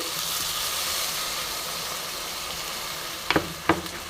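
Potato and pointed gourd curry sautéing over medium heat in a pan gives a steady close sizzle, broken near the end by a few sharp stirring scrapes and spatters as water is added.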